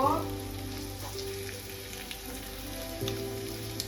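Potatoes sizzle in hot oil in a pan, a soft continuous frying crackle with a faint steady hum and a few small clicks of stirring, fairly quiet and without speech.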